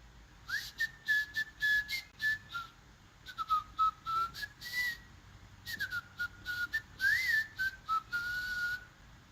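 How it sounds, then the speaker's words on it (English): A person whistles a wandering, casual tune in short phrases with small pauses, over faint background rustling. "That was my nonchalant whistle."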